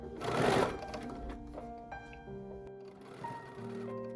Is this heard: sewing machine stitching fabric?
yes